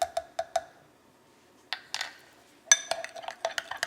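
Spoon stirring horseradish sauce in a bowl for Maryland-style steamed shrimp: sharp clinks and scrapes in short bursts, a few at the start, a pause, then a quick run of clinks, close and fairly quiet.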